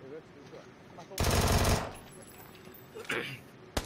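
Gunfire in the video game PUBG comes as a loud, close burst of rapid automatic shots lasting about half a second, followed by a couple of fainter single shots, while players talk over the game sound.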